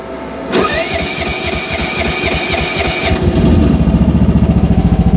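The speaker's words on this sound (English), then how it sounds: "And we can go ahead and turn the key." The engine of a Rippa R10 mini excavator cranks with the key and catches, then settles into a steady, close, chugging idle with a rhythmic pulse.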